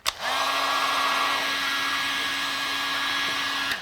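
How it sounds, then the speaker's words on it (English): Heat gun warming the lacquer on an Epiphone SG guitar body, a loud steady blowing whine with a high tone, switched on and running throughout. "So first off, heat gun."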